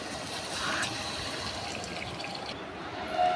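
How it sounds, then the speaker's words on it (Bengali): Hot water poured into egg curry masala in a pan, a continuous splashing pour and bubbling hiss, close and moderately loud. "এবার দিয়ে দেবো সামান্য গরম জল।"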